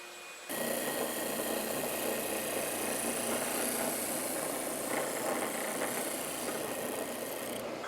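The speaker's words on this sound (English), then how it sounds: "I'm going to be drilling partially into the piece" A power drill bores partially into a clamped wooden piece for a DIY hangboard, a loud steady whirring that starts abruptly and runs unbroken to the end.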